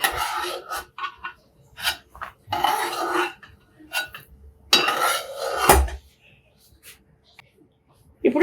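Fried dry fruits are moved onto another plate, with bursts of metal utensils clinking and scraping against dishes. Someone talks between the clatters.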